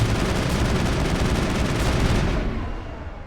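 Sustained automatic gunfire from a firefight in the sci-fi game Mass Effect, a dense, loud rattle of shots that continues for about two seconds before tapering off.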